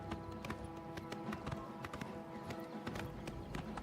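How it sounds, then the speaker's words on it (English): Horse hooves in the video game Oblivion beat out a quick, steady clip-clop, each strike sharp and evenly spaced, at low level behind a soft game soundtrack. "I didn't even mean to take him off the horse."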